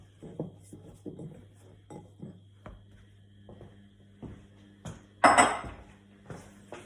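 A mixing bowl is handled and pushed aside after dough for quick yoghurt flatbreads comes together: a series of soft, close knocks and taps, ending in a louder clattering clunk as the bowl is set down.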